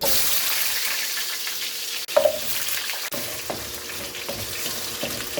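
Vegetables for chicken mechado sizzle steadily in hot coconut oil, a close, continuous fry broken by a few brief stirring clatters, with no talk.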